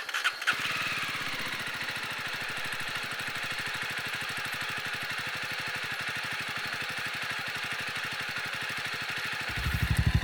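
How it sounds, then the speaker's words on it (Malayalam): A motorcycle engine cranks and catches, then settles into a steady, loud idle with a rapid even putter, revving slightly near the end. "ബൈക്ക് സ്റ്റാർട്ട് ചെയ്ത് വെച്ചു."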